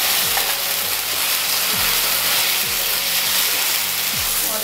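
Spice paste for chicken biryani sizzles in a hot pan with a loud continuous hiss, and a spatula scrapes through it about every second.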